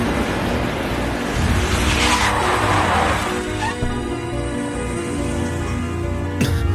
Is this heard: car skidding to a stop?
yes